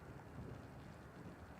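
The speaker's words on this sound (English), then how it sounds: "The storm's raging." A raging storm in the video game The Invincible: a dense, steady wash of heavy rain mixed with low rumbling thunder and wind, faint and continuous throughout.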